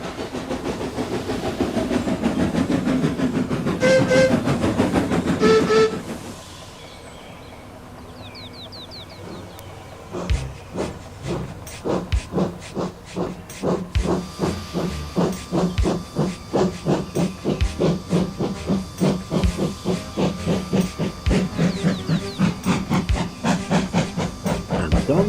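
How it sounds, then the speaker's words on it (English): Steam engines hauling a train hiss loudly and sound a whistle, then settle into rapid, rhythmic puffing chuffs that continue steadily, with a voice narrating over the opening. "Donald and Douglas, puffing hard, managed to haul Thomas back to the yard"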